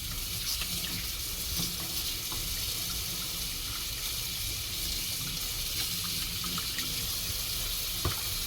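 Water runs steadily from a tap into a pot to be boiled on the fire for a Jamaican sorrel drink, a continuous hissing splash with a faint clink near the end.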